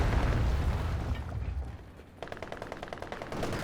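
Walking Stuka rocket barrage in the Company of Heroes 2 strategy video game, with heavy rumbling explosions at first, then a steady rapid crackle of gunfire and blasts carrying on to the end.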